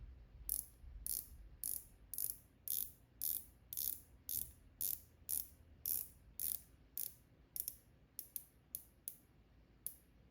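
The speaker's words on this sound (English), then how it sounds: "As you can see, the clicks are loud and clear." The steel coin-edge bezel of a Watchdives WD7922 BB54-homage dive watch is rotated, giving about eighteen crisp, close clicks in a steady rhythm that quickens near the end, alone in near silence.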